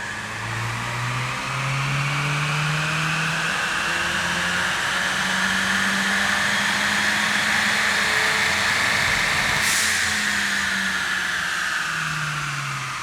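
A 2015–2022 Ford Mustang EcoBoost with a front mount intercooler runs on a dyno, its engine roaring loud and steady while the pitch sweeps upward through repeated acceleration pulls, with a brief higher hiss near the end.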